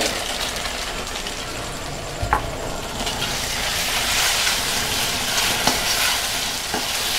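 Squid balls frying in oyster sauce while a spoon stirs them through the pan, a steady close sizzle with scraping and a few sharp clicks from the utensil, no talk.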